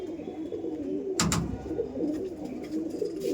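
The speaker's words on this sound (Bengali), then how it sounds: "খুবই সুন্দর আন্ধ্রা পায়রা" Close, soft cooing of an Andhra pigeon in a low, rolling murmur, broken once by a brief flutter or scrape partway through.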